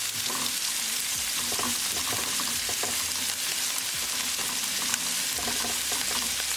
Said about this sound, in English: Garlic, ginger, green chili. Add at the same time. Mix it well and cook it only until the garlicky flavor